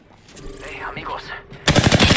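A short, loud burst of rapid automatic gunfire in the video game Apex Legends breaks in right after a voice.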